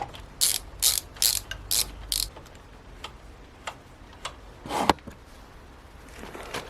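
A hand ratchet tightens a bolt on the output sprocket of a Honda MSX 125 motorcycle, with short bursts of rapid clicking in a steady rhythm, then slower, more spaced ticks close by.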